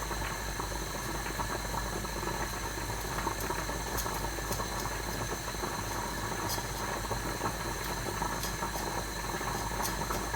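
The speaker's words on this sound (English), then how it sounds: "That is boiling straight away, like that is rapid boiling." Water at a rapid boil in a pan on the stove while cooking rice with prawns, giving a steady, dense bubbling hiss that stays level and close throughout, with no talking over it.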